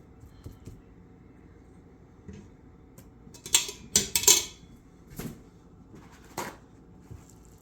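Clinks and scrapes of a pan and utensils come in a cluster of sharp knocks midway, as food is set down into a frying pan.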